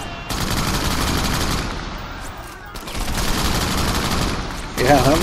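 Sustained rapid gunfire and bursts of shots from the video game Crackdown, loud and nearly continuous with a brief lull midway, set over a dense layer of game noise.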